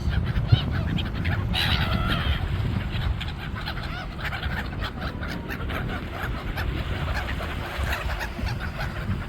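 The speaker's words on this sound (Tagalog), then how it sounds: "Ito yung mga seagull bird near Cornets Beach." Seagulls call near Cornets Beach, a flurry of honking, squawking cries clustered early and scattered afterward over steady low wind and surf rumble.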